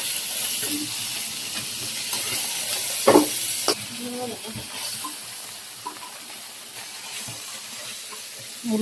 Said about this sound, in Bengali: এই পাশটাতে যে মাছ ভাজা বসাই দিছি